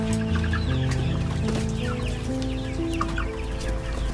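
Chickens raised for market on a farm cluck and call close by in a busy, overlapping chorus, loud and continuous for a few seconds, with no talk over them.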